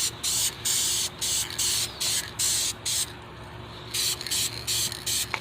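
Short bursts of hissing spray from an aerosol can lay clear coat onto car paint, about a dozen quick passes in an uneven rhythm with brief gaps, close and fairly loud.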